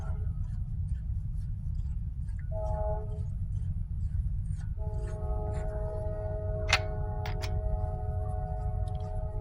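A steady low rumble of a passing train fills the background, with sustained tonal hums from the rail cars and a brief high squeal midway.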